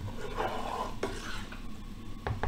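Tamarind sauce cooking in a pan, a low steady simmering sizzle with a few soft utensil scrapes and clinks, close and fairly quiet.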